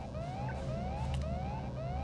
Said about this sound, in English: That's a different kind of alarm.